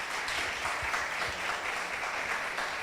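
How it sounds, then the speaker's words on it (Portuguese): Steady audience applause at a Brazilian talk-show taping, dense and even throughout, filling the room without pause. "Palmas para minha..."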